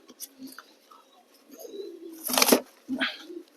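Soft coos from yellow-faced and white fantail pigeons come and go in short bursts, with a few chirps and a loud rustling flutter near the middle, close by.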